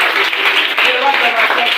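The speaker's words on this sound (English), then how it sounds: "Let's join me with a round of applause as we welcome" A school audience applauds at a World Science Day event, a dense, even wash of clapping mixed with crowd voices throughout.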